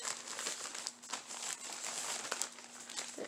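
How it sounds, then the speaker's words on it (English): Plastic resealable bag from a Shein clothing order holding one shirt, crinkled by hand up close in a series of soft, irregular rustles and crackles with no talk. "They pack it in a nice little resealable bag"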